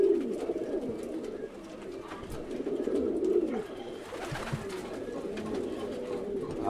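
Several pigeons in a loft in northern Greece coo steadily and softly, a continuous low warbling chorus close by with faint rustling and no talk.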